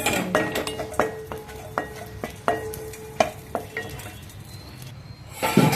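Cashews, almonds and raisins fry in ghee with a light sizzle. A spoon scrapes and clinks against the pan in irregular taps, and a louder rustle comes at the end.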